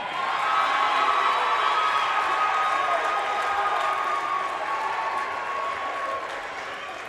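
Crowd cheering and applauding at a Humboldt vs Cal State East Bay CCAA men's college basketball game, a steady, loud roar of claps and shouts sustained throughout, gradually easing toward the end.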